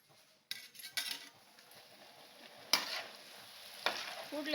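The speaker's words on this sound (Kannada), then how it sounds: "ಅಲಸಂಡೆ ಈಗ ಎಣ್ಣೆಗೆ ಹಾಕ್ತೇನೆ" Alasande snack batter made from flour drops into hot oil and fries with a soft, steady sizzle, while a ladle stirs and clinks against the pan in several sharp metallic knocks.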